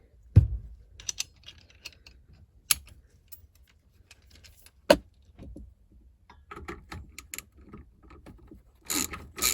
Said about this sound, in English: Let's put the right socket on.